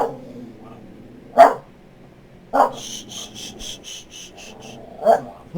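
A dog barks three times, sharp and spaced well apart, with a quiet background and faint insect-like chirping between the barks.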